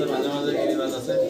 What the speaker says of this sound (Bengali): ঘুঘু পাখি তো খুব সুন্দর ডাকে ভাই